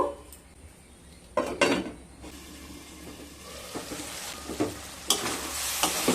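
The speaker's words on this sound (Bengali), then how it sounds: "সয়াবিনগুলো খুব ভালোভাবে কষানো হয়ে গেছে" Soybean chunks stir-fried with spice paste for a potato and pointed gourd curry: a steady sizzle with repeated spatula scrapes and clanks against the pan, growing busier toward the end, with no voices.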